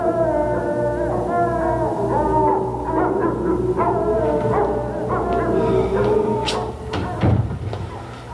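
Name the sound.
dogs howling and barking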